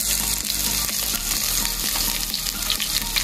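Lemongrass bulb sautéing in a pan for chicken pochero, a loud close crackling sizzle running continuously over a low steady hum, with small pops scattered through it and no voices.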